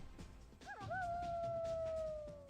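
A long, rising then slowly sliding wolf-like howl rings out in Legend of Legaia, a single clear tonal cry held for nearly two seconds over a low background murmur.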